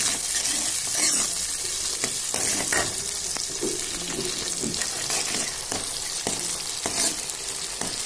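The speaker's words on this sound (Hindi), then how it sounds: "मेरा मसाला पक रहा है" A masala paste of ground cashew, garlic, onion and ginger with tomato fries in a pan for a dum arbi dish, giving a steady, close sizzle with occasional stirring scrapes and clinks throughout.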